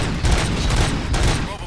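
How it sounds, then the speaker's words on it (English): Rapid gunfire bursts in the video game RoboCop: Rogue City, a dense, continuous volley of shots with game sounds layered beneath it. "Gunshots? What's going on?"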